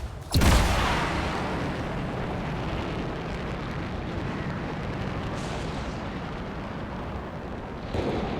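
A weapon stockpile blows up in the Anthem video game with a sharp boom. A long rumbling roar of debris and fire follows and fades slowly, and a second, softer burst comes near the end.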